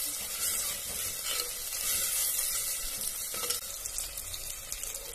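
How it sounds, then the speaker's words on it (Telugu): Onions fry in a pan for village-style egg biryani, a loud, close, continuous sizzle and crackle with a few clinks of stirring, no talking. "ఎర్రగడ్డలు కొంచెం వేయించుకోవాలి."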